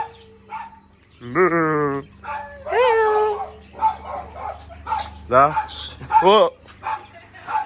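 A husky in Benin barks and yowls in several drawn-out, wavering cries, close by, with a person's brief voice between them.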